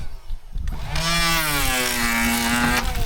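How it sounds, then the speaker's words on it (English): A cordless electric planer spins up with a rising, tonal whine and then shaves a 2x6 deck board with a steady, close mechanical hum for about two seconds. "Show them that tool. It's an electric planer."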